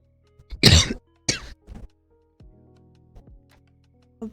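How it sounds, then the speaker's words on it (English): A person coughs close by: two harsh bursts in quick succession, then a shorter third cough, followed by quiet clicks and faint low tones. "I'm sorry for coughing in your face."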